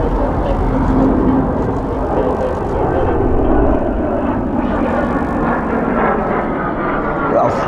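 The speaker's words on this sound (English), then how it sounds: "Well, thank you very much, Typhoons, for coming through" A pair of RAF Typhoon fighter jets pass overhead, their heavy engine roar swelling and holding loud and broad, with people talking excitedly during the flypast.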